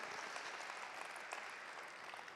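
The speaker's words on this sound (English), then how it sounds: "Let's once again give him a big round of applause, ladies and gentlemen" Applause from an audience at a company stock listing ceremony in India, a soft, steady spread of clapping from many hands heard at a distance and fairly faint throughout.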